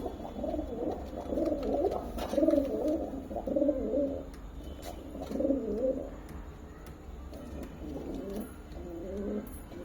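Several domestic pigeons coo in repeated rumbling phrases at close range, overlapping in a steady chorus with brief pauses between bursts and no talking.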